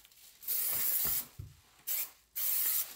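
3M Super 77 spray adhesive is misted onto silicone caulking in several short, close hissing bursts separated by brief pauses.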